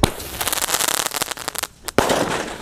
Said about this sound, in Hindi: वो देखो भाई काफी खतरनाक था हमारा मेगा फाउंटेन।